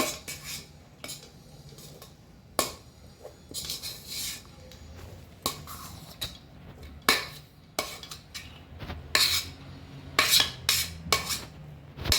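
Spoons scrape and clink against a metal pot as rice and curry are layered for goat mutton dum biryani, irregular close knocks and scrapes with quiet gaps between, no talking.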